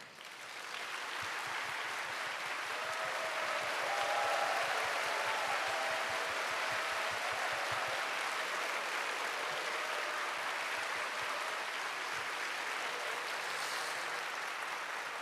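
A church congregation gives sustained applause welcoming a visiting delegation of Brazilian Methodist pastors, a dense, even roar of many hands clapping that fills the hall throughout, with no speech.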